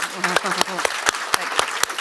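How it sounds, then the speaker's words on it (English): Applause at the close of a book talk, sparse and uneven with distinct individual claps standing out over a murmur of voices, heard briefly. "a round of applause"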